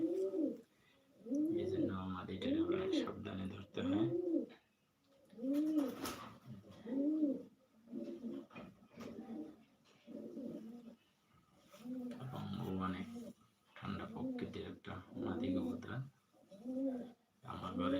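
Racing pigeons coo in a loft, repeated throaty rolling coos in bursts close by, with pauses between phrases and someone talking in the background.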